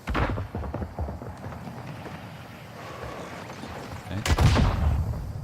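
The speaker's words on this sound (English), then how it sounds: "RPGs going off." Gunfire and RPG explosions in the Call of Duty DMZ video game: a busy stretch of crackling shots and rumbling blasts, then a louder burst near the end.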